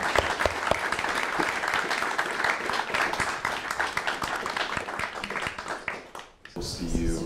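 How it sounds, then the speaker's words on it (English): Sustained audience applause for Wendy Moro after a sound healing session at a CreativeMornings Monterey Peninsula gathering, dense and steady for several seconds before fading, with a voice speaking briefly at the end. "Can we just give a round of applause for Wendy?"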